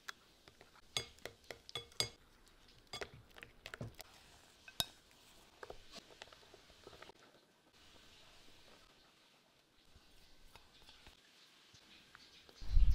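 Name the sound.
stirring banana bread batter in a bowl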